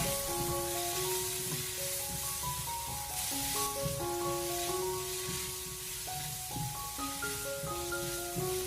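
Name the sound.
ginger and garlic stir-frying in pork fat in a wok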